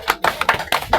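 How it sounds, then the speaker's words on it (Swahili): A church congregation claps for the children during a Sunday service, a short run of several close, irregular hand claps. "Pigia watoto makofi."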